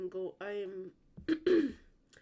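A man clears his throat a few times in quick succession, close and fairly loud, with short harsh rasping bursts after a voiced hum.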